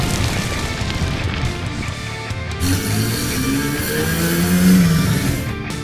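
Hot Wheels toy cars, a Dodge and a Maserati, race down a track, making a continuous rattling, rolling clatter with a rising whirring tone near the end, over a busy background.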